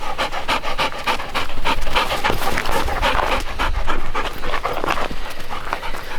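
A large dog pants steadily in quick, rhythmic breaths close by, continuous and fairly loud throughout with no talk over it.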